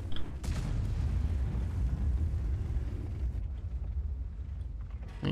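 Tank gun firing a high-explosive shell in an M48 Patton tank video game: a heavy boom at the start followed by a sustained low rumble and battle ambience, with no talk.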